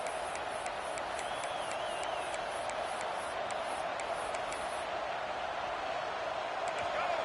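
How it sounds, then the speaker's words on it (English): A college football stadium crowd roars and cheers as the home defense faces third and goal, a steady wall of distant noise that runs throughout, with a broadcast announcer talking over it. "This crowd rising up, sensing that its defense needs some help."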